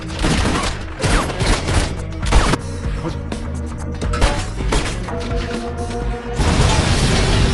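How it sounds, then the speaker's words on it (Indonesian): Dense bursts of gunfire and booming impacts from a film scene, loud and continuous, with shouted voices and music woven underneath. "Para petugas lain yang datang kaget mendengar suara tembakan."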